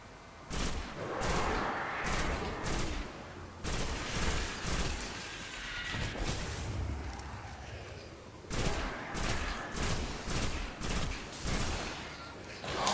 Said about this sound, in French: vous avez vu le nombre de rafales qu'il faut pour tuer une prêtresse?